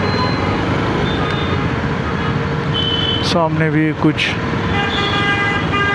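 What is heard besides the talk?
road traffic with car horns on a Bangalore street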